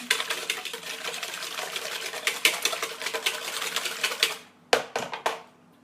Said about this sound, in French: on va pareil, remélanger un petit coup pour que l'huile se mélange bien avec le sucre.